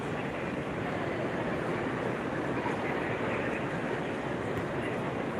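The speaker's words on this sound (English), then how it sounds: "This is Grand Central Terminal." Steady, dense wash of crowd murmur and reverberant hall noise in Grand Central Terminal, New York, constant and moderately loud, with no distinct events.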